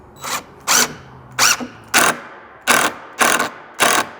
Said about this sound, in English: You'll notice that it sounds easier to go in until about halfway through because that is how far my pilot hole is, and then the screw will start gripping onto the wood